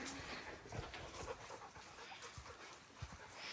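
Dogs panting on a walk on a sunny day: quick, soft, breathy huffs repeating steadily, close but faint, with no talk over them.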